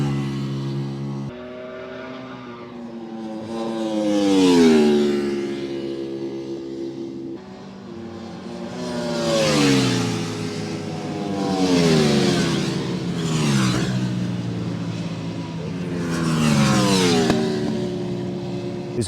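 Motorcycles lapping the full Silverstone Grand Prix circuit during a track day. Their engines rev high and drop sharply with each gear change, passing in repeated surging waves from near to farther away, with no talk.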